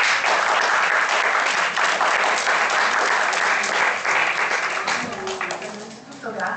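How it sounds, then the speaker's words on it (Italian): An audience at a talk applauds a speaker being introduced, dense steady clapping from a crowd that fades slightly toward the end, with a few voices just audible as it dies down. "Vi prego di salutare con un applauso Isabella Siciliano."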